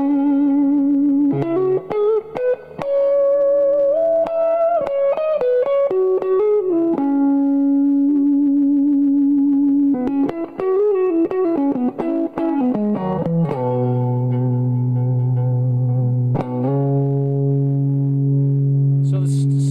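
A clean electric guitar, a Strat with slight hum, plays a few notes through a Barber Tone Press compressor, then single notes ring out and sustain smoothly for long stretches, steady and loud without fading.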